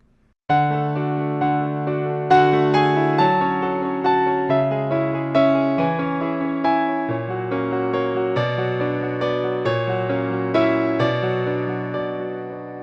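Solo piano plays a flowing section of a song, with low bass notes and chords struck in a steady triple-feel rhythm, clear and close.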